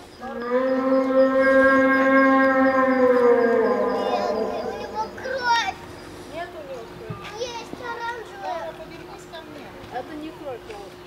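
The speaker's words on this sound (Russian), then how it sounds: "Душераздирающий такой рёв." An animatronic dinosaur at a dino park in Lithuania lets out a long, loud, siren-like wailing roar that slides downward in pitch, then fades. Children talk and chatter afterward.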